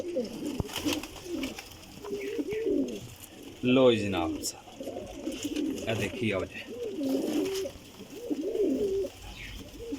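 Pigeons sold as flying birds coo softly and repeatedly close by, their rolling calls overlapping while someone speaks over them.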